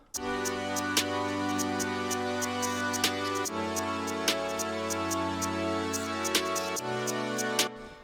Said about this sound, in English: so the hi-hats sound like this now that they're all done.